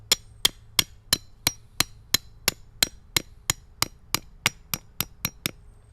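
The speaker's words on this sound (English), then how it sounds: "take my hammer and pound this down" A hammer strikes a metal edging stake into the ground in a steady series of about eighteen sharp, ringing blows, evenly spaced and close, with no voices.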